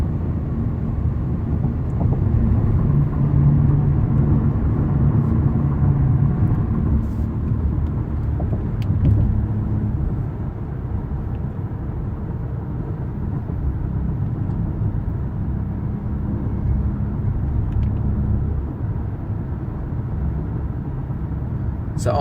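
Steady low road rumble inside a car heading south on the highway toward the Riverview exit near Brandon, a continuous droning hum with slight swells and no breaks throughout.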